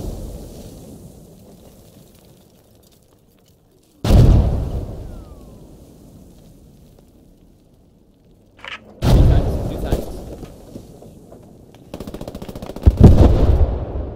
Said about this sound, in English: Shooting at the tank, I'm shooting at the forest.